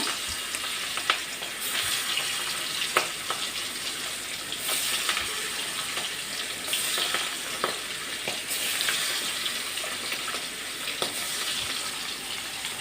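Fish frying in hot oil in a home kitchen while cooking a Bengali bitter-greens dish, a steady loud sizzle and crackle with occasional sharper pops, no voices.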